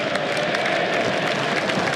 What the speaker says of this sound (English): that applause you hear is for James Anderson's name being read out over the loudspeaker